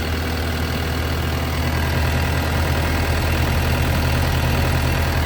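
Diesel engine of a 2017 Takeuchi TL12V2 skid steer idling steadily, a warm, low, even rumble with a constant mechanical drone, close by and unbroken, with no talking.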